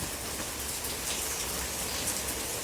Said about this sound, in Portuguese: É muito linda a chuva.